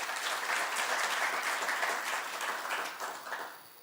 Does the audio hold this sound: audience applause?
yes